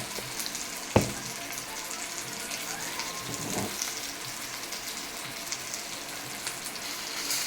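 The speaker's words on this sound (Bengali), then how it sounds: "এখন যে আমি তেল পটলটা করব, এর ভিতরে ফোড়নে দিয়ে দেবো আমি একটু জিরা, তার সাথে দিয়ে দেবো আমি একটা শুকনো লঙ্কা।" Cumin seeds and a dried chili crackling in hot oil, a low continuous sizzle with a sharp clack near the start, close and without speech.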